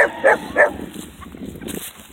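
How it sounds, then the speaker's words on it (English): Puppies give three quick, high yapping barks close by in the first moment, then only a low, restless background remains. "Yeah, I have puppies over here. Look at all those puppies."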